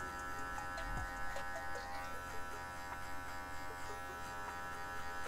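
An electric hair clipper buzzes steadily at close range while trimming the marked part line of a razor part haircut, a constant motor hum with small shifts in pitch as the blade moves through hair.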